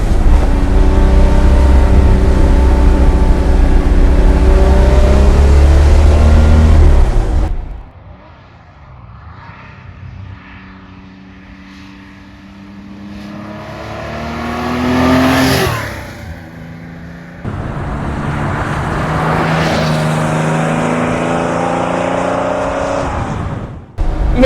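A 1969 Porsche 911 Targa's 2.4-litre flat-six engine roars loudly and close, then drops to a lower idle-like rumble, then rises again through revving surges.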